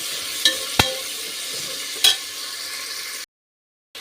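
Chopped onions and cumin frying in oil inside a pressure cooker, a steady soft sizzle with a few sharp stirring clicks, then a brief cut to silence.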